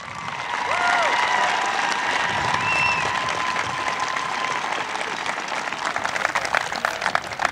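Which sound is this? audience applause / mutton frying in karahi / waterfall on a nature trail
audience applause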